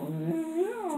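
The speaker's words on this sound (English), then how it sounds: "that's our dog growling for no so reason" A pet dog makes a short, close, wavering vocal sound, more a whine than a low growl, about one second long with no talk.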